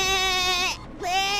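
A goat bleats twice, loud and close: a long wavering bleat, a brief pause, then a second bleat, with no talking.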